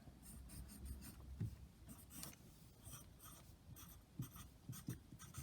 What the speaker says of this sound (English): So here I'm going to write at the top,